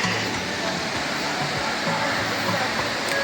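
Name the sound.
waterfall like Dunn's River Falls in Jamaica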